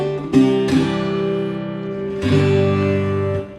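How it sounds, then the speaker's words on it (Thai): A small Otis 361L acoustic guitar played through an amplifier strums a few chords, each ringing out with a full, slightly boomy tone, no voices present. "อันนี้เป็นเสียงที่ออกมาจากแอมนะครับ"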